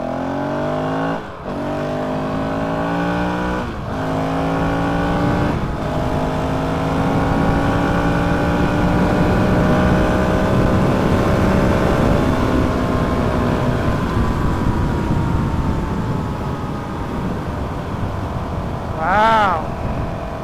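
A Honda CRF450RL dirt bike with stock exhaust and an aftermarket GET ECU drones loudly and steadily while riding, its pitch rising and falling through short dips as it shifts, with no voices.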